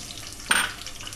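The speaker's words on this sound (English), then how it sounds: "fried onions, leftover oil I have added. Add the onions into it." Onions dropped into leftover oil in a pan give a sudden sizzling burst that flares loudly for a moment and then eases back into a softer fry.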